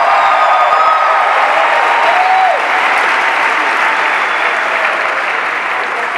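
Loud, sustained applause from a large audience at a motivational seminar in Las Vegas, dense clapping filling the whole stretch with a faint crowd murmur underneath and no break.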